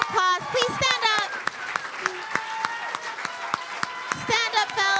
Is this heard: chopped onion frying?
no